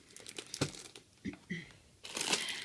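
Crinkly bag being handled, with scattered rustles and crackles that swell into a louder crumpling burst near the end, close and fairly quiet.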